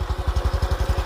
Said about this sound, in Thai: นี่เสียงเดินเบาเดินเบาประมาณนี้เลยครับนิ่มๆเลย